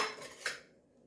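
A bowl grabbed in a kitchen while baking gluten-free cinnamon apple donuts, a short clatter of dishware with a light clink that fades to quiet.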